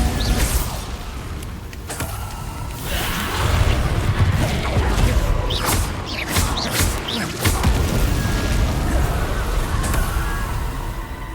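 Repeated Bombarda spell blasts in Hogwarts Legacy, booming impacts with whooshing bursts and crashing debris layered over busy combat sound, several hits spread across the stretch.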